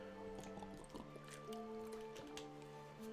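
Water trickles and drips while a drink is poured and sipped, faint and close, with light liquid splashes over a low hum and soft tonal background music.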